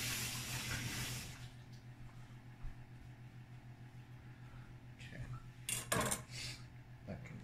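A kitchen knife being rinsed under running water at a home kitchen sink, with a steady tap hiss, soft clinks of metal against dishes and a louder clatter near the end; a voice speaks briefly.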